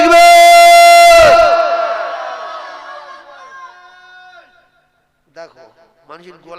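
A large crowd at a Bengali waz sermon roars the Nara-e-Takbir chant in a loud, brief unified burst that fades into a long echoing tail, followed by a few scattered voices.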